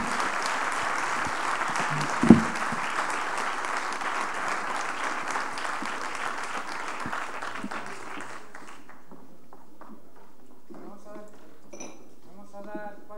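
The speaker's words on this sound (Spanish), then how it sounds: "se merecen un aplauso nuestros ponentes" An audience applauds speakers at a business conference on strategies for volatile markets, clapping steady and moderately loud for several seconds before fading out, followed by a few light clinks of glass or cutlery and quiet voices.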